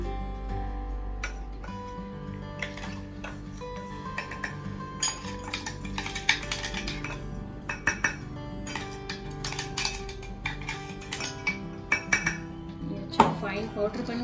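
Ground kadha spice powder is tipped into a bowl, giving a run of light clinks, taps and scrapes of utensil against dishware with a steady low hum behind, close and moderately loud with no talk.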